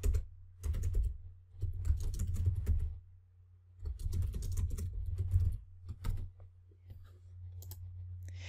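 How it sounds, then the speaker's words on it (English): Typing on a computer keyboard while entering tagline text in a Wix restaurant website editor, with bursts of rapid key clicks separated by short pauses over a steady low hum. "I edit the text and type in my tagline"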